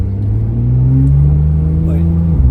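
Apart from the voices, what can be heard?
2015 Porsche 911 Turbo S engine with 3-inch exhaust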